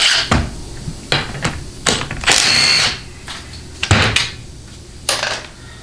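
A ratchet works on the bolts of a Chrysler A904 automatic transmission in quick, loud bursts of clicking and metallic clatter, separated by brief pauses.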